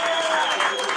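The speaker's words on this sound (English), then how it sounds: "Round of applause." Live show audience applauding together, a dense steady round of clapping that fills the whole second, with a voice speaking over it.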